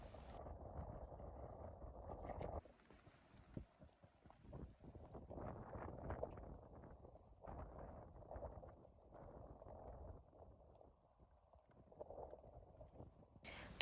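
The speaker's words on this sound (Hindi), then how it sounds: "तो आप भी सुन लो कैसी हवा चल रही है।" Strong wind at Kunzum Pass, a high mountain pass in Spiti, buffets the microphone with low, uneven rumbling gusts that rise and fall, fairly faint overall, with brief lulls between stronger blasts.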